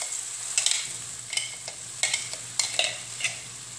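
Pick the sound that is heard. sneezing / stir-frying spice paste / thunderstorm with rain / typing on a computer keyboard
stir-frying spice paste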